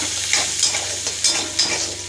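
Chopped green chilli, ginger and garlic sizzle steadily with half-browned onions in a pan, a close, continuous frying hiss with soft stirring scrapes and no talk.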